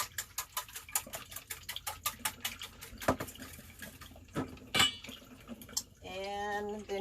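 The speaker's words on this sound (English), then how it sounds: "So what you have to do first, of course, is you whisk your eggs" Two eggs whisked in a bowl for almond flour waffles give a quick, regular run of light ticking strokes against the bowl, then a few scattered clinks and a brief voice near the end.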